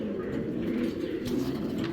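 A pair of bright red Rasgolla breed pigeons coo close by in steady, low throaty rolls that continue with little break.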